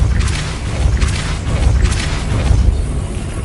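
A Depulso force spell blasts in Hogwarts Legacy, a loud, dense rumbling boom with repeated low thuds that swell and fade across the stretch.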